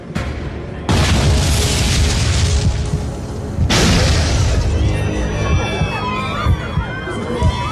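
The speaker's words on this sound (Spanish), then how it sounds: "Dos explosiones sacudían el avión." Two sudden, heavy booms break out aboard an airliner over a loud, steady engine roar, followed by rumbling and a crowd of frightened passengers shouting.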